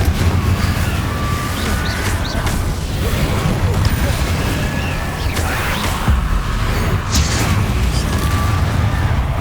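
Confringo spell blasts in Hogwarts Legacy, heavy booming explosions and whooshes layered over dense combat noise, loud and sustained throughout, with a few sharper bursts near the end and voices shouting over the action.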